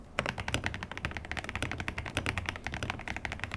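Rapid, steady clacking of keys on a low-noise retro IBM-style mechanical keyboard with Ice Mint switches, continuous bursts of crisp taps close up with no voices.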